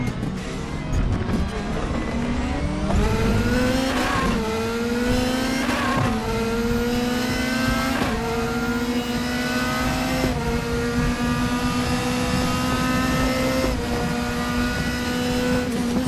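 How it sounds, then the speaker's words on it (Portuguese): Audi RS DTM 2015 race car in RaceRoom, its engine screaming loud and close through repeated upshifts, pitch climbing and dropping back with each gear change, running steadily alone with no talk. "Esse carro tem um som muito gostoso, cara."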